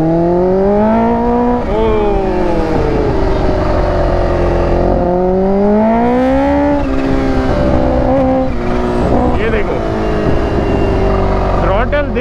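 A Kawasaki Ninja H2 motorcycle engine revs on the throttle, its loud tone rising and falling in repeated sweeps. A voice talks over the engine throughout.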